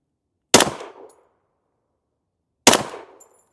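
Two loud, sharp shots from a Ruger LC Carbine firing 45 ACP rounds, about two seconds apart, each ringing briefly before near silence.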